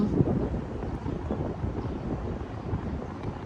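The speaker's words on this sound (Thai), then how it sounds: "ดีที่ยังมีลม" Wind gusting outdoors over New York under a smoky yellow sky from Canadian wildfire smoke, a steady broadband rush with low rumble and no voices.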